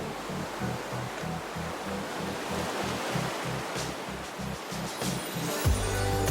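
Steady broadband wash of sea surf on a beach during a horse ride, with a rhythmic low thumping running through it and a louder splash near the end.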